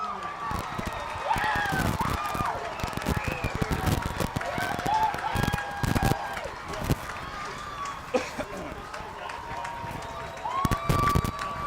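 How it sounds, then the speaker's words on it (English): A high school football crowd at a Norristown versus Spring Ford game stirs with rising cheers and chatter in an open stadium, under steady play-by-play commentary that runs throughout. "The crowd has awakened."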